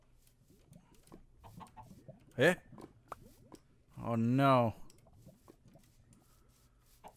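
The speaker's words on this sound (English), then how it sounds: "The chicken are escaping everywhere." Minecraft chickens clucking as they escape, a short squawk followed by a longer, louder wavering cluck, with faint footsteps and bits of a player's talk around them.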